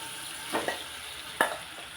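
A curd mixture for paneer bajji is stirred in a pan over low heat, with soft sizzling and two sharp scraping strokes of the spoon against the pan.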